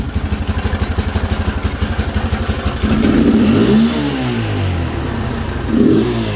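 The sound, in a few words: engine firing up and running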